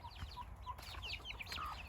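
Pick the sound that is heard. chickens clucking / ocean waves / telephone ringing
chickens clucking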